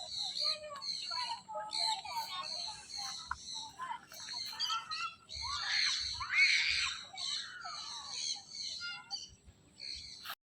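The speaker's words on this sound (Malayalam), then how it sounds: "പക്ഷികൾ കരയെന്ന് വെച്ച് കേൾക്കുന്നത്." Birds squawking and calling at a bird park, a busy mix of shrill overlapping cries at moderate distance, fairly faint, with occasional low background noise.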